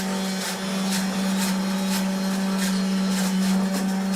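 A blender whirs steadily with a low motor hum, its blade chopping in a regular pulsing rhythm, close and fairly loud, with no talking.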